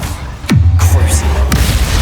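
Spell blasts from Bombarda and Confringo in Hogwarts Legacy, two sharp booming impacts about a second apart, each with a falling whoosh and a low rumbling tail, fairly loud with no talk.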